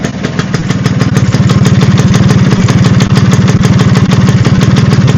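A Vespa PX two-stroke scooter engine runs up close and loud, a fast, even, popping putter holding steady throughout with no talk over it.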